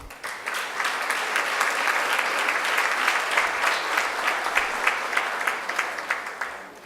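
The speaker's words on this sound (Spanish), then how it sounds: "un gran aplauso para los muchachos semilleros de Panamá" A conference audience at a procedural law congress applauds students, giving steady moderate clapping with distinct individual claps standing out rhythmically throughout, heard from within the hall.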